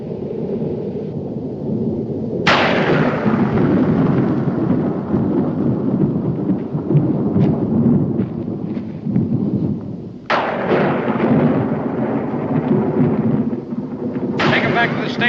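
Thunder rumbles steadily ahead of a storm in a 1969 Western drama scene, with sharp loud cracks breaking through the heavy continuous roll several times.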